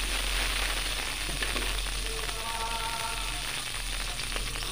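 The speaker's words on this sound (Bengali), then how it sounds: "কাঁচামরিচ পেঁয়াজ কুচিগুলো আমি সুন্দরভাবে নেড়ে চেড়ে হালকা করে ভেজে নিব।" Green chilies and chopped onion fry in oil in a cooking pot, giving a steady, fairly quiet sizzle with light stirring scrapes and a few faint tonal squeaks. No voices.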